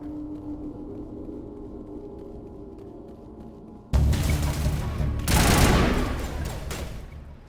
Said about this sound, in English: Let's use the assault rifle for a little while, why not?